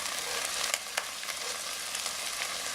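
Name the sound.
mapo tofu spice sauce stirred in a wok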